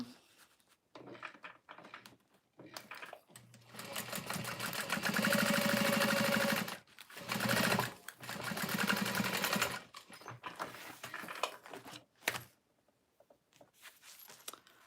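A sewing machine runs in bursts of steady whirring, stopping and starting again and again while stitching Devon pouches, some passages long and sustained, others short, fairly close.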